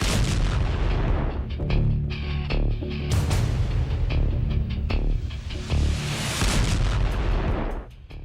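B-61 nuclear bomb launch, a loud continuous roar with booming, rumbling bursts throughout, heavy low-end throbbing and sharp cracks, close and intense with no talk.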